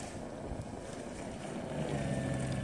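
A Spyker KAT 2X snow blower engine runs in a steady low drone outdoors in snow, close and continuous, growing slightly louder toward the end, with faint wind noise and no talking.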